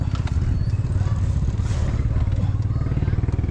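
The carburetted engine of a flood-damaged Nissan is cranked and tried, producing a loud, steady, rapid low-pitched chugging pulse with light mechanical clatter, up close.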